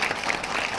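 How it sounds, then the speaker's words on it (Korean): Wedding guests applaud at a traditional Korean wedding ceremony, a brief, steady burst of clapping from a crowd filling the room at close range. "박수는 마음의 표현입니다."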